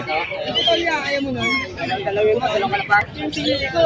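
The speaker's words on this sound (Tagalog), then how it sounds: "May mga manok din." Chickens cluck and call amid a busy pet market in Malabon, with a crowd murmuring and a voice talking over the birds throughout.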